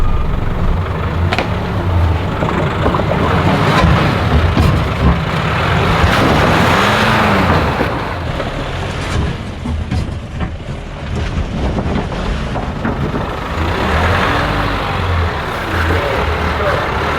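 A 4WD vehicle grinds along an off-road track near Lithgow, its engine a rough, fluctuating rumble mixed with wind buffeting the microphone, with voices talking over it throughout.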